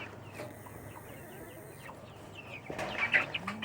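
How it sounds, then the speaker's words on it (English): Freedom Ranger broiler chickens clucking on a farm near chicken tractors, quiet scattered clucks at first, then a louder close burst of clucking near the end, no talking. "We also raise Freedom Ranger broilers."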